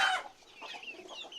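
A farmyard chicken clucks softly a few times close by, quiet short calls with no talk.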